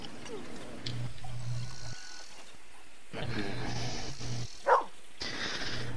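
A dog barks in Red Dead Online, a short sharp bark near the end standing out over steady game ambience and low background hum.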